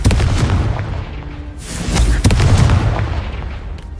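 A Confringo explosion spell from Hogwarts Legacy detonates as a pair of loud, punchy booms with a bright crackling burst, close and prominent.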